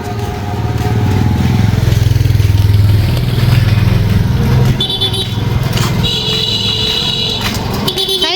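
A motorbike passes along a Bangladeshi village road in Agnibindu, heard as a loud, steady engine drone that holds throughout, with short horn toots near the end.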